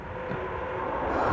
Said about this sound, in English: That's the sound of wraiths.